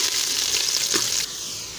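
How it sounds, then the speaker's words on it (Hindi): Onions frying in a pan until light brown, a loud close continuous sizzle with a brief scrape in the middle, easing slightly in the last half second. "जब तक प्याज ब्राउन हो रहा है हम टमाटर को काट के रखते हैं।"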